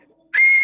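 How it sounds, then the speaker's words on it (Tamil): A single sharp, high whistle blast rings out briefly and clearly, blown to welcome a guest at an event in Tamil Nadu. "அந்த விசில் தான் சார் தமிழ்நாடோட ஸ்பெஷல்."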